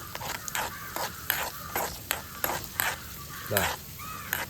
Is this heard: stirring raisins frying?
yes